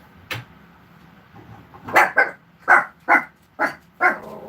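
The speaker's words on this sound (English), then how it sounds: "No bark, puppy." A puppy barks in a quick string of about six sharp yaps, close and fairly loud, after a single early yip, with a quiet kitchen in the background and no talk.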